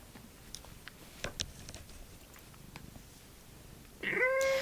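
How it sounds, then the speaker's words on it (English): A house cat purrs softly over a low background hiss, then gives one short, louder meow-like call near the end. "my cat wants to join in on your reading"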